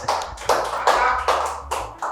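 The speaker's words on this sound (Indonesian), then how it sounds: "tepuk tangan dulu buat Pak Bejan" A few people clap in a small studio setting during a cigar talk show. The claps are close, sharp and rhythmic, landing in even bursts about every half second.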